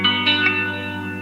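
Electric guitar played through a phaser effect: a sustained, shimmering chord that slowly sweeps as it rings out, close and unaccompanied by voices.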